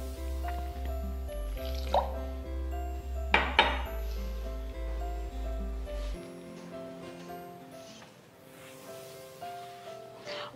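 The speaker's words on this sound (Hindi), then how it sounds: "थोड़ा सा दूध, मिक्स करेंगे और डो को गूंद लेंगे" Pizza dough is mixed and kneaded with milk in a bowl, giving soft wet squishing and a few clinks against the dish over a steady background hum, with no talking.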